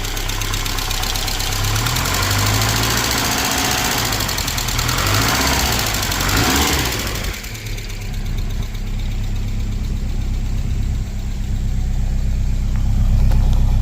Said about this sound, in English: Got a lifter tap going on there.